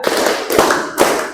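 A group of people in a teacher coaching session clapping hands in short rhythmic counts, a few crisp sharp claps close by over a dense background of murmuring voices.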